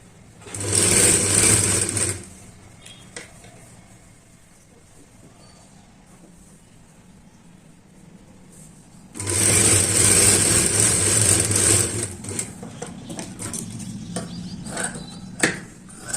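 A sewing machine stitches the seam of a katori-style blouse in two fast, whirring bursts, one about two seconds long and a longer one later, with quiet handling noises between.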